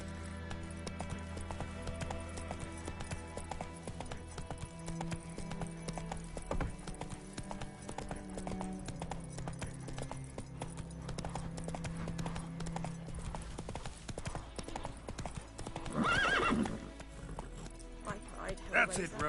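Roach the horse gallops in The Witcher 3: Wild Hunt, steady rhythmic hoofbeats running throughout under a music score, with a brief neigh near the end.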